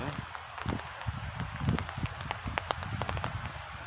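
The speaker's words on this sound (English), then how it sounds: "It's starting to rain a little higher" Light rain beginning to fall outdoors during a storm in Guelph, with trees blowing nearby, a soft patter and crackle of drops under gusty noise while someone talks over it.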